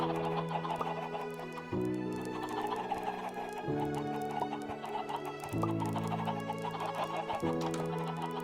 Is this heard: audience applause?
no